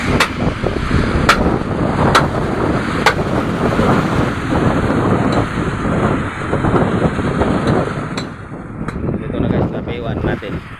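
Strong wind buffets outdoors in the early morning rain, making a loud, continuous roar with gusty surges and some thumps against the microphone.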